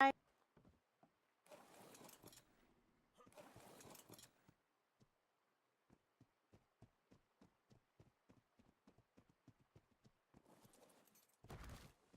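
Horses' hooves clip-clop in Ark: Survival Evolved, a string of light, evenly spaced footfalls that run through the middle, with bursts of talk and other game noise before and after.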